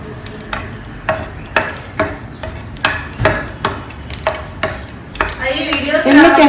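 Dried red chilies and green chilies frying in hot oil as the tempering for a pesarattu curry, with a steady run of close stirring knocks and a sizzle that grows louder toward the end.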